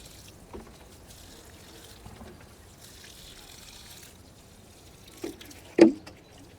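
Water poured from a watering can onto rose plants in a garden makes a faint, steady trickle, with a couple of brief louder splashes near the end.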